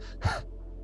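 A person imitates intense, panicked breathing, as if fleeing a tiger: a single sharp, close gasping inhale followed by a brief breathy trail, alone with no other sound.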